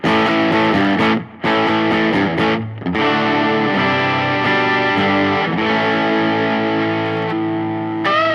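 An overdriven electric guitar through a Fender Mustang Micro headphone amp, set like a Fender Deluxe Reverb with a Tube Screamer in front, plays sustained distorted chords, loud and continuous, with only brief dips.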